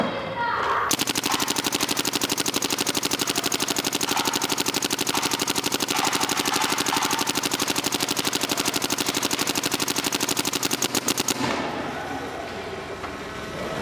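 A Planet Eclipse GSL paintball marker fires a long, steady burst of rapid, evenly spaced shots, loud and close, running for about ten seconds before stopping abruptly.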